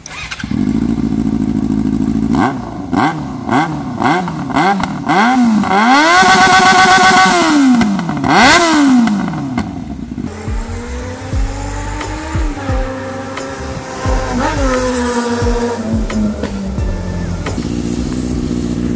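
A Yamaha XJ6 motorcycle revs hard again and again through a newly fitted loud sport exhaust, rising and falling in sharp bursts close by, then settling into a rough idle between blips.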